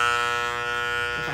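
An electric trimmer shaves the pile of a tufted rug, producing a steady, close, buzzing hum that runs through the whole short moment without a break.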